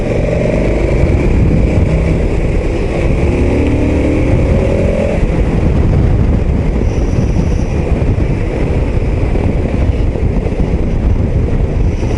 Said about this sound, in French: Le moteur est péchu, puissant.